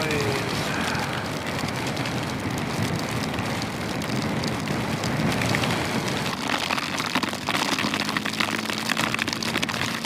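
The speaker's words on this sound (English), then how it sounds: "It's raining sideways." Heavy rain blows sideways across a cyclist on the road between Roubaix and Rouen, a dense continuous hiss mixed with wind roar, loud and close throughout.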